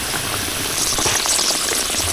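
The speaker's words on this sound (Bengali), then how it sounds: "এবার একটু কষা নিতে হবে ভালোভাবে।" Fish with cauliflower and beans sautéing in a pan with salt, chili and turmeric, giving a busy, bubbling sizzle that stays loud and continuous with no voices.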